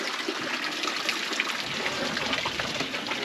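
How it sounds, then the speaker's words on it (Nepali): Water pours from the three-spout public tap in Bandipur, a steady splashing gush and trickle close by, continuous throughout with no voices. "बन्दीपुरको 3 धाराको पानी"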